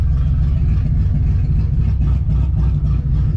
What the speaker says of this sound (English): car warm up a little bit